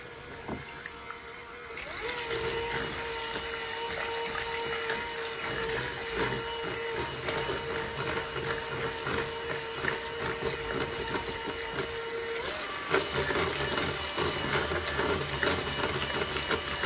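An electric mixer beats softened cream cheese and eggs slowly in a bowl, making a steady, close motor whir that runs on for most of the stretch.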